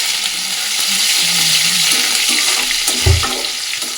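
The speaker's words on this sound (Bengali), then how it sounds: "কালো সর্ষে একটু ভালো করে ভাজা ভাজা করে নেবো" Cumin and black mustard seeds fry in a wok, giving a loud, steady, close sizzle with a brief low thump near the end.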